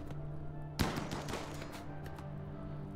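Gunfire breaks out in the colony game RimWorld during a zombie apocalypse scenario: one sharp close shot followed by a scatter of quicker cracks over a steady low hum, with no talk.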